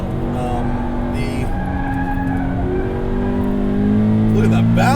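A 2018 Subaru BRZ tS lapping a race track, its engine loud and close, pulling up through the revs with pitch climbing steadily, a shift near the middle, and a person talking over the drone.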